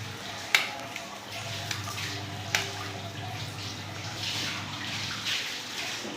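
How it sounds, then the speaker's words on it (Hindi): Tap water pours into a bucket at home on a water-supply day, a steady rushing splash with a couple of sharp knocks near the start. "ये बाल्टी में पानी भर रही है।"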